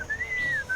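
Clear melodic whistling in Sam & Max Beyond Time and Space, a single sustained pure tone that rises and glides smoothly then falls, brief and fairly quiet with no speech.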